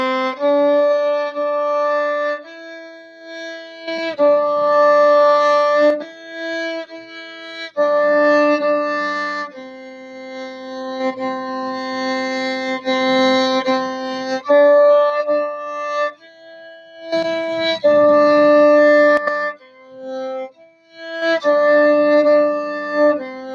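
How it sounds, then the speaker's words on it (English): Cello section playing a string-method exercise in third extended position on G: sustained bowed notes in phrases of long tones separated by short breaks, clear and close with rich harmonics, no talking. "cellos, you're getting ready to do third extended position"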